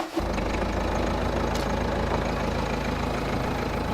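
A car engine runs at a steady, loud, close idle-like drone with a low rumble while the car rolls half a wheel turn so snow socks can be fitted over the tyre.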